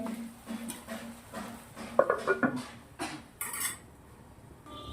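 A spoon scrapes and clinks against a pot while vegetable curry with fresh coriander is mixed over low heat, several short uneven metallic knocks and scrapes, moderately close and fairly quiet.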